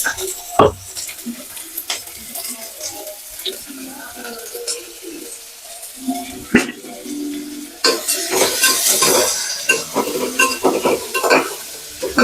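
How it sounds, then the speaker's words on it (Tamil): Sliced onions frying in a pan for tomato rice, stirred with a utensil: steady sizzling under irregular scraping and clinking, with someone talking faintly at times. "கலர் மாறுற வரைய கிண்டி விடுவோம்"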